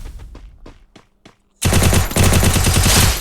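Gunfire in the Free Fire video game: a few spaced single shots, then after a short pause a loud, sustained burst of rapid automatic fire up close.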